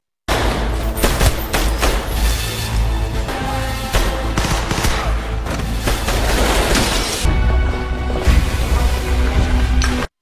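Assault rifle gunfire from an action film, dense and continuous bursts of loud shots and booms overlapping for ten seconds with barely a pause, no speech.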